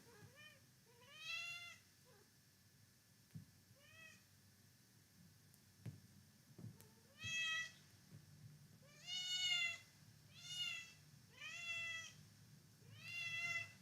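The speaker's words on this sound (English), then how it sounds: "Meow." A cat meows repeatedly, indoors: about nine clear, fairly close meows in irregular bursts, some drawn out and rising, with quiet pauses and a few soft knocks between.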